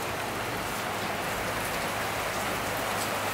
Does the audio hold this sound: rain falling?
yes